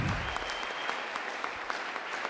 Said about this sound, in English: So he deserves a round of applause.